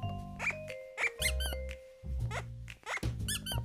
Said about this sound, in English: That's not just a squeak. This is like a, like an alarm.